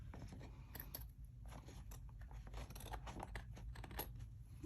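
Scissors trimming paper journal pages, a run of quick snipping and crisp cutting clicks, close but quiet, with no talk.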